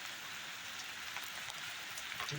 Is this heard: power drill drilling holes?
no